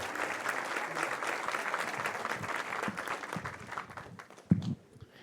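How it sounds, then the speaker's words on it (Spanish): A church congregation claps together in a steady wash of applause that stays fairly quiet and distant, then thins out and fades near the end, with a single louder clap or thump just before it trails off. "fuerte aplauso para nuestro Señor."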